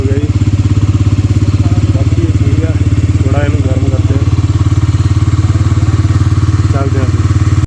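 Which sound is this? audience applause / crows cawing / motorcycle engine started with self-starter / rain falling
motorcycle engine started with self-starter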